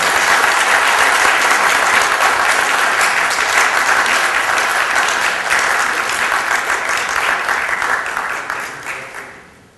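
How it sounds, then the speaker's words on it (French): A large audience at a public meeting with an Ivorian deputy breaks into loud, sustained applause, a dense roar of clapping that holds for several seconds before gradually fading away at the end. "je vous demande d'applaudir très fort, s'il vous plaît"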